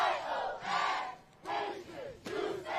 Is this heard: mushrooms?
no